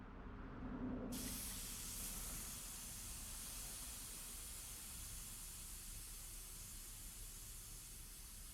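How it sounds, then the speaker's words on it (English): Air hisses out of a bike tube's Schrader valve as it deflates, a sudden loud rush of air that carries on as a steady, fading hiss close by. "press on the needle inside the valve to deflate the tube"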